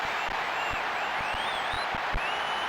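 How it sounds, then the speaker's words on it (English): Stadium crowd noise from a PES football video game match, Arema vs Persis: a steady, dense roar of cheering and applause with scattered claps and whistles, continuous and evenly loud throughout. "The crowd wait to offer them a red-hot welcome."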